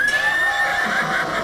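A mare neighs in one long, wavering whinny lasting about a second and a half. The call is loud and close, with no talking over it. It comes up during a Rajasthani devotional folk recital of Pabuji's wedding tale.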